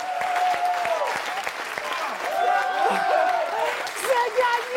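A studio audience on a French TV entertainment show applauds a contest winner, with steady, dense clapping continuing throughout while a voice speaks over it.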